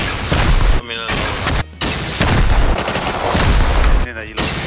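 Gunfire in the video game Rust, with repeated loud bursts of shots and booming impacts filling most of the clip, broken by short gaps with only quieter ambience.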